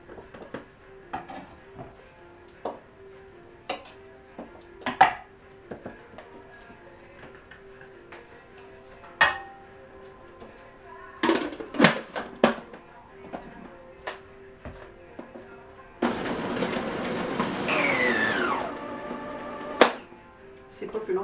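Couscous ingredients being cut into small pieces, with scattered close knife taps and chops on a board, a tighter cluster of quick cuts midway, then a sustained rustling, scraping stretch near the end, with talking heard in places.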